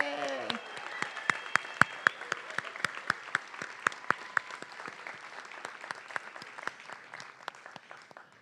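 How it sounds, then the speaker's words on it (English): Applause from the audience at a nursing pinning ceremony, a dense burst of clapping in a hall that slowly thins toward the end, with a voice briefly at the start. "Give yourselves a round of applause."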